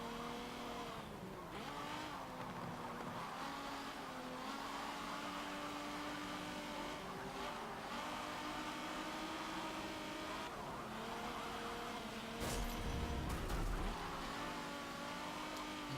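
Vintage sport compact race cars, including a Datsun and a Skyline, howl steadily in Forza Motorsport 7, with layered engine drones rising and falling as they jostle together and a sharp burst of tyre noise near the end.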